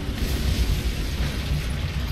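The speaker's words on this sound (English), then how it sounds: "He just dropped bombs." Bomb explosions in the War Thunder tank game, a sustained loud, rumbling boom with heavy low-end roar lasting throughout, no talking over it.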